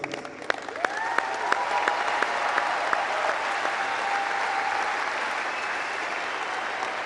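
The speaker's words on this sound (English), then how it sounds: "I think one more big cheer for her because she deserves it." A tennis crowd at the United Cup final applauds warmly with some cheering, giving a steady, dense wash of clapping that fills the arena throughout.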